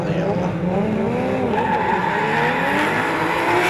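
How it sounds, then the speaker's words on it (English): Drift cars at a D1NZ pro championship round at Wellington Speedway roar off the line side by side, engines revving hard with loud continuous tire squeal under a commentator's voice. "And it'll be a drag race into this big sweeping right-hander at Max Motors Wellington Speedway."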